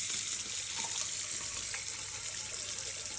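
Cold water tap runs during a motorhome winterisation, a steady close rushing hiss of flowing water that holds evenly throughout with no voices.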